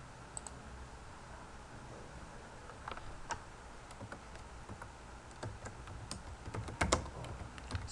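Someone types on a computer keyboard. The quiet, close clicks come in irregular bursts and bunch together more densely toward the end.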